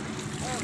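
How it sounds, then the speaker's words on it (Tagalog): A small outrigger boat's engine runs near the shore at a Tagum City beach, a steady droning hum mixed with water and wind noise. "Ayan o yung makina"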